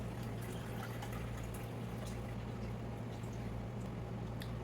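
Stock pours steadily into a pot of stewed fish, a continuous liquid rush and gurgle with a low steady hum underneath, fairly faint and unbroken, with no talking.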